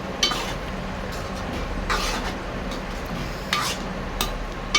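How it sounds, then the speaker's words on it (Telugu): An egg and tomato curry with coriander is stirred in a pan, with scraping spoon strokes in several bursts over a continuous background of cooking noise. "కొత్తిమీర వేసేసుకొని మొత్తం ఒకసారి కలుపుకుందాం"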